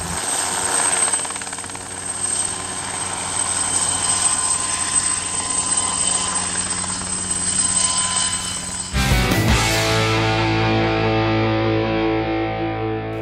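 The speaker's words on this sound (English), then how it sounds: "This helicopter is quite unique. It's the first of its kind in Africa, predominantly made of carbon fiber." Light carbon fiber training helicopter with a loud continuous rotor and turbine drone, cutting abruptly into a closer, brighter engine whine partway through.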